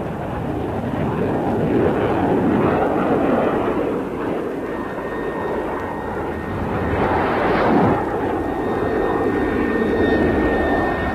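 A jet aircraft is launched by steam catapult from the carrier Nimitz, giving a loud continuous engine roar with a swelling surge partway through.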